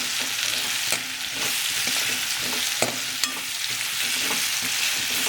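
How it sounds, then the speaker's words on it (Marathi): Curry leaves dropped into hot oil in a pan give a continuous close sizzle and crackle, with scattered sharp pops and stirring scrapes throughout. "आता मी तुम्हाला याच्यात कढीपत्ता टाकणार आहे"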